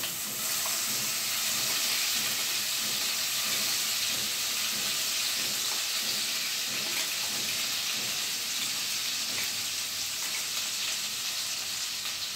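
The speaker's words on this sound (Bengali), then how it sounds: "এবার আমি কড়াইতে দিয়ে দেব বেটে রাখা মশলার মিশ্রণটা।" Ground spice paste fries in a kadai over low heat for an egg Afghani korma, a constant loud hissing sizzle with light stirring clatter and bubbling throughout.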